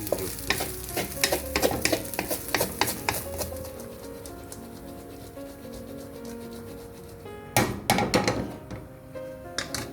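A spatula clatters and scrapes briskly against a pan as fried rice is stirred over sizzling heat, with rapid close taps in busy bursts, a short lull, then another flurry of strikes.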